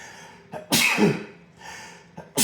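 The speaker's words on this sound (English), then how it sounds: "oh, damn, I gotta sneeze." Two sharp sneezes, each preceded by a quick inhaled breath, with no talking.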